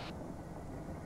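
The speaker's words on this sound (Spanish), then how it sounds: "Escucho un tanque." A low, steady tank engine rumble in a video game drones throughout, heavy and continuous like a tracked vehicle idling at a distance, with no voices.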